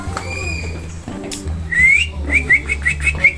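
Birds at a zoo call nearby with short whistled notes and a repeated rising chirp, over a low background hum and some distant voices.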